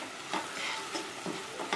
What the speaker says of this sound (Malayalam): അതിന്റെ പച്ചമണം മാറുന്നവരെ നമുക്കൊന്ന് വഴറ്റിയെടുക്കണം.